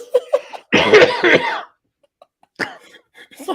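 A man clears his throat once with a rough, coughing rasp, close and loud, between brief bits of quiet and faint movement.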